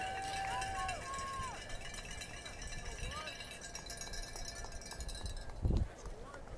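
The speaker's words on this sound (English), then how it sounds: "You can hear the crowd in the background" Crowd noise from spectators at a six-man varsity football game, a steady broadband murmur with scattered voices and whistle-like squeaks running through the whole stretch, plus a brief louder thump near the end.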